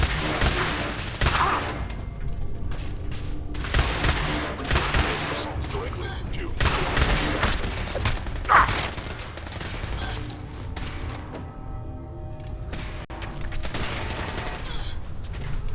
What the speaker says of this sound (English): I think I'll use the laser pistol for now.